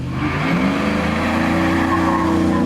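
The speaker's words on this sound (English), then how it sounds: "All right, wide open throttle from a slight dig." A supercharged Shelby F-150 pickup's big engine roars steadily at wide open throttle, loud and close, with a faint high supercharger whine riding over the deep drone.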